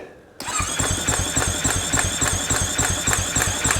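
Husqvarna FC450 motorcycle engine cranking over with the throttle held wide open during a compression test. The starter whirs and the engine chugs in a steady fast rhythm, loud and close, starting abruptly after a short quiet moment.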